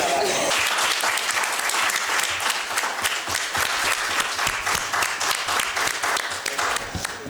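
A school quiz-show audience breaks into sustained applause for two competing secondary-school teams, dense and steady clapping from many hands that fills the room with hardly a pause, with a few voices underneath.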